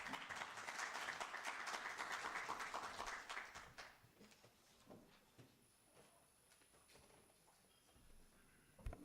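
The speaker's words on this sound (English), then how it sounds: "Let us give him a round of applause." Applause from an audience welcoming the director at a research and innovation week event, a fairly steady patter of many hands for a few seconds that fades to scattered claps and room noise.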